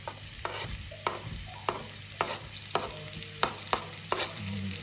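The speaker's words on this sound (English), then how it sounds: "we take our onions that we sliced and drop those in" Sliced thin onions sizzle in a pan of hot oil, with a steady broadband hiss broken by repeated sharp stirring scrapes at a fairly regular pace, close and clear, no talking.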